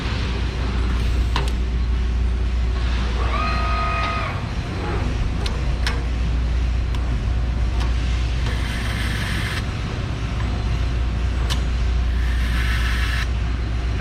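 A crate engine on a factory test stand runs with a steady, continuous low rumble that stays even from start to finish, while faint voices and occasional short clicks and tones sound around it.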